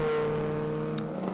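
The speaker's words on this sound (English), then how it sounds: "the ex-Mick Monterosso Ford Anglia with the 1600 Ford under the bonnet." A Ford Anglia race car with a pre-crossflow 1600 Ford engine holds a steady, loud droning note, its engine tone sustained and even throughout the short stretch.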